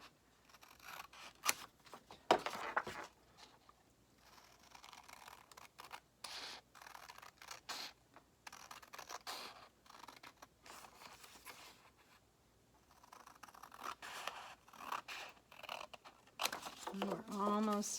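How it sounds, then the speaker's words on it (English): Scissors snip through paper while cutting out a shape for a recipe template page, with repeated close crisp cuts spread across the clip and a person talking in between. "And then I'm going to cut my last shape here, last paper shape."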